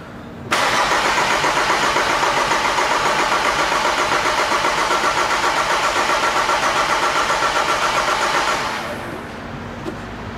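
Volkswagen Amarok engine with no fuel pressure cranks close up on a start attempt, whirring in a long, steady, rhythmic churn for about eight seconds before the starter stops and everything falls quiet.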